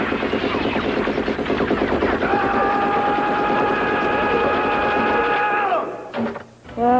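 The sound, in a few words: Rambo toy machine pistol making gunfire noise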